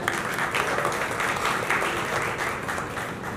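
Steady, dense clapping from a seated audience at a Marathi film trailer launch, loud and continuous throughout with no gaps, many hands blending into one sustained roar.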